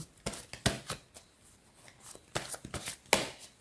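Tarot oracle cards are shuffled and drawn in a series of crisp riffling bursts, close and fairly quiet, with short pauses between the flurries and no talking.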